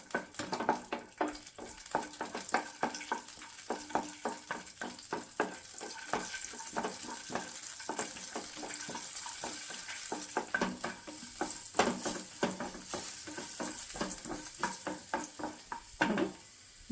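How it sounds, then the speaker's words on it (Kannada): Dry fruits roasting in hot ghee in a pan for banana halwa, a quiet continuous sizzle broken by frequent scraping stirs of a spoon, with no voices. "ನೋಡಿ, ತುಪ್ಪ ಕಾಯ್ದಿದೆ. ಇವಾಗ ಡ್ರೈ ಫ್ರೂಟ್ಸು ರೋಸ್ಟ್ ಮಾಡ್ಕೊಳ್ಳೋಣ."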